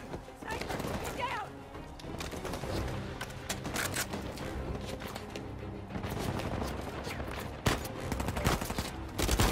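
Gunfire from Uncharted 4 crackles in rapid, irregular bursts of shots and impacts, dense and fairly loud throughout, with someone talking over the action.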